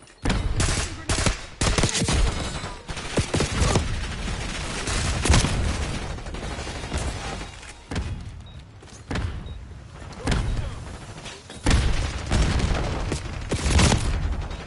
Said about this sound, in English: Just wanted to detonate that C4.